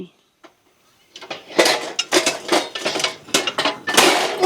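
Metal cooking pots, pans and utensils clatter repeatedly in a domestic setting, a dense run of loud close clanks and scrapes that starts after a quiet opening, with voices talking around them.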